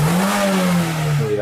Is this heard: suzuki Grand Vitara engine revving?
yes